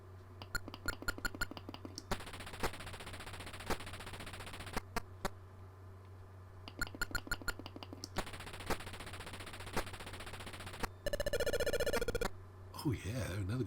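Atari 2600 slot machine game sound effects: bursts of rapid, repeated electronic beeps and buzzing tones, with a distinct higher warbling jingle near the end as a win plays, loud and steady with no voices.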